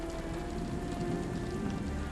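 Steady rain falls on a street in the Sherlock Holmes The Awakened video game, a faint, even hiss of drops that runs unbroken throughout with no talk.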